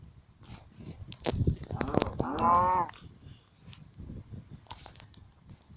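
A Minecraft cow moos once, a short drawn-out call in the middle, surrounded by a person talking and scattered clicks.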